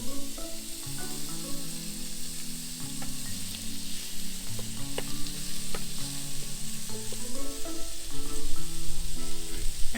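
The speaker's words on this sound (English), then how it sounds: "let this cook and fry down all the chicken in with all these Vidalia onions" Chicken fries with Vidalia onions in a Power XL cooker inside an RV, giving a steady, loud sizzle and hiss with occasional stirring clinks and no talking.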